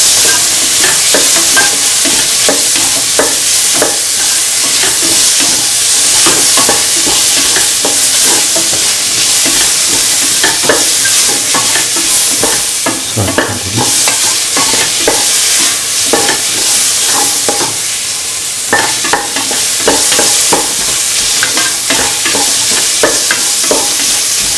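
Carrots and tomatoes sautéing for lemon chickpea rice, a steady loud sizzle with frequent scraping stirs of a spatula through the pan, no voices.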